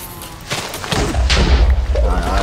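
A loud explosion blast in the Minecraft Hexxit mod, a booming burst building into a sustained low rumble, with a voice speaking over it.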